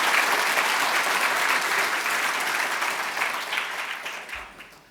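An audience at a university honorary doctorate ceremony lecture applauds in a steady, dense wash of clapping that gradually fades out at the end.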